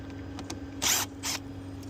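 Plastic screws are backed out of a plastic panel on a Hayward Summit pool heat pump, making two short, close mechanical grinding bursts over a low hum.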